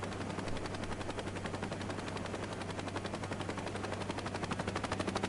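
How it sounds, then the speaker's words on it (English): Attack helicopter in the Saints Row reboot game, a loud continuous rotor chop with rapid pulsing beats and a steady low engine drone, heard close throughout. "there's an attack chopper here"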